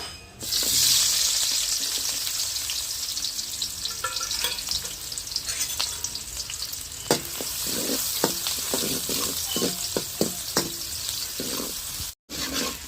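Onions fry in hot oil in a pan over a wood-fire stove, giving a loud, steady sizzle with sharp crackles and pops, then a brief cut to silence near the end.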